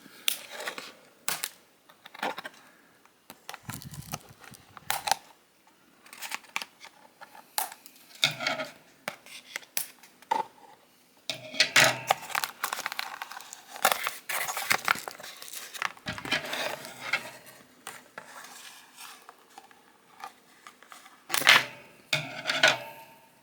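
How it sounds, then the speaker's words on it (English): Sharp snips and plastic crackles come from freeing a Transformers Age of Primes Deluxe Class Micronus Prime figure from its packaging, close and irregular bursts with short pauses between cuts. "Now let's cut the figure loose."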